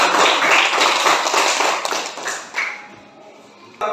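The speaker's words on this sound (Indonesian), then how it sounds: "mari kita berikan tepuk tangan kepada" Hands clapping in a school classroom, a class of students applauding together: a dense, loud burst of overlapping claps that thins out and fades over a few seconds, with a single sharp clap near the end.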